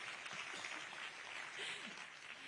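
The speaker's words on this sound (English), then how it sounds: "We can also give them a round of applause." An audience applauds at a university event in New Delhi, a faint, dense patter of clapping from a distant crowd heard steadily throughout.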